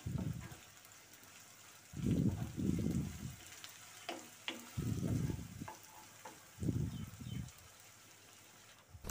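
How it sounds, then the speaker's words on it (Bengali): Chicken pieces frying in a pan with two tablespoons of ginger garlic paste are stirred in short bursts, scraping and sizzling close up, with quiet pauses between strokes. "এবার এর মধ্যে 2 টেবিল চামচ আদা রসুন বাটা দিয়ে দিচ্ছি। এবার আবার একটু নেড়ে নিচ্ছি।"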